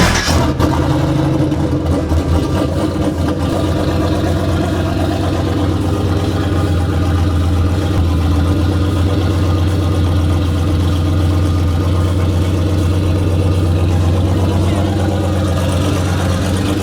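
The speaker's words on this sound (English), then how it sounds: "My boy Darwin's gonna move that car out of there, and then we're gonna put my truck inside." A car engine runs steadily with a deep low rumble and slight revving while the car is moved out of a garage, loud and close throughout, with voices faintly underneath.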